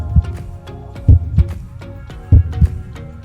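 Heartbeat sound effect: two pairs of deep, soft thumps in a lub-dub rhythm, close and prominent over a faint sustained musical tone, with no voices.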